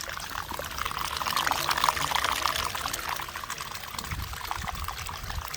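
Dirty water from a rental carpet cleaner pours steadily into a drain, a continuous close splashing rush that swells slightly midway and then eases.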